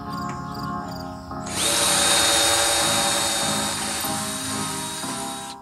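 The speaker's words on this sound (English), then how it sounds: "now all I need to do is put some pilot holes in all of our studs." Power drill boring pilot holes into wooden studs during a bus conversion, a loud steady high-pitched whine that starts abruptly and runs for several seconds, close by.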